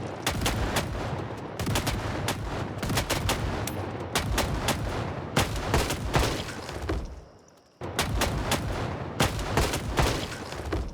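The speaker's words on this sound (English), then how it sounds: "I let off 3 shots." Rapid gunshots from a firearm in the zombie survival game Project Zomboid, loud and dense, firing in bursts with a brief lull near the end before the shooting resumes.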